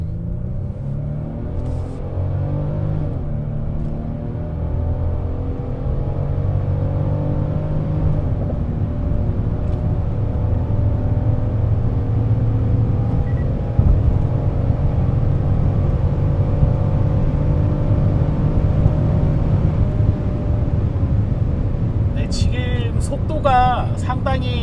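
Genesis GV70 3.5T accelerating hard in sport mode, a steady interior engine and road rumble that rises in pitch as it pulls, heard from inside the cabin with no talking over it.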